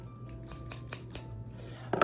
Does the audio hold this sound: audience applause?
no